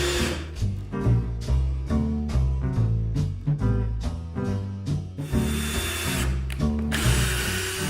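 A power drill drives screws into wooden supports for a homemade game table, with repeated loud whirring bursts that rise and stop in a rapid rhythm, followed by a longer sustained run.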